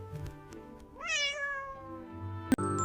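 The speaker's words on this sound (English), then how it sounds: "It says meow. Meow. It's a cat." A cat meows in a rising, drawn-out call near the start, followed by a quieter tail, with soft background noise and a short sharp knock toward the end.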